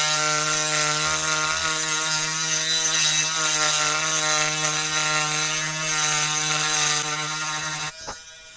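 Topshak TS-MG1 cordless mini grinder whining steadily with a strong tonal hum while engraving a surface, then cutting off abruptly near the end with a short clatter.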